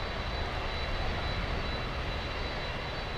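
An Embraer E175 jet airliner arriving at Miami International Airport gives a steady, full-bodied engine roar that holds at a constant level throughout, heard outdoors without any talk.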